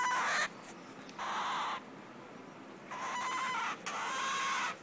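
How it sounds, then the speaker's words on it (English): Baby cockatiels let out breathy hissing bursts, four or five close, fairly loud rasping hisses of about half a second to a second each, separated by short quiet gaps with no talking. "They're kind of scared, and they'll make a little hissing noise at you."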